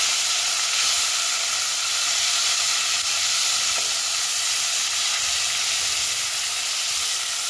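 A paste of tomato, green and red chili and curry leaves frying in a pan for paneer masala, giving a loud, close, unbroken sizzling hiss that stays level throughout with no talk.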